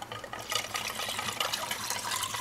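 Antifreeze coolant, part water and part pure concentrate, pouring steadily into the cooling system of a BMW M3 E90 with the S65 V8, a continuous gurgling, gushing trickle close by with no voices.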